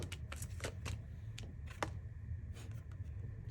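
Quiet, close tarot card shuffling with a series of crisp papery snaps and flicks at an uneven pace, no voices.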